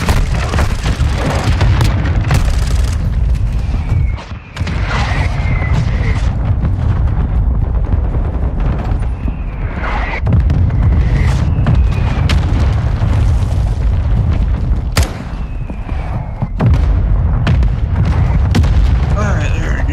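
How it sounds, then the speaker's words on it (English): Mortar strike explosions in Modern Warfare II, heavy booms and rumbling blasts that keep going under a constant bed of battle noise and a talking voice. "Hostile mortar strike."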